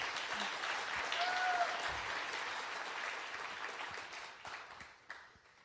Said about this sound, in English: Give them all a round of applause.